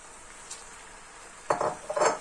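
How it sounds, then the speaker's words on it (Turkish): Sliced onions and garlic sizzle in hot oil in a pan, a quiet steady frying hiss with a couple of louder bursts of stirring and utensil clinks near the end. "Şimdi onları güzelce bir kavuruyorum."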